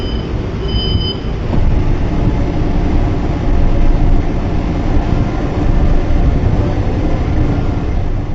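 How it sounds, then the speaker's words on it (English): Train rumbling and clattering as it begins to move after the doors close, a steady low rolling noise with faint brief high squeals early on, no talk. "Train is about to move."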